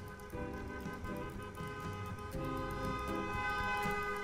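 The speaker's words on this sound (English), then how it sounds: "Hearing horns honking!" Car horns honk outside in the Cooking Simulator video game, several overlapping sustained blares layered over each other and continuing for a few seconds with no talk over them.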